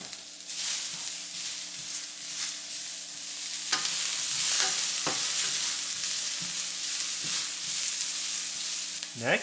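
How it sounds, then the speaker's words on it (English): White onions browning in a hot pan for Philly cheesesteak, a steady close sizzle and fry with intermittent stirring scrapes and clinks throughout. "we're going to brown up the white onions first"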